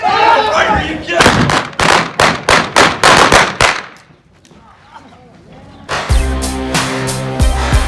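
Rapid, loud gunshots crack in quick succession during a staged O.K. Corral gunfight reenactment in Tombstone, Arizona, followed by a quieter stretch and then a voice speaking loudly.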